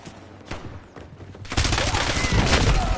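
Heavy gunfire erupts in a Call of Duty Warzone match, starting as scattered shots and swelling after a moment into a loud, sustained fusillade of rapid bursts.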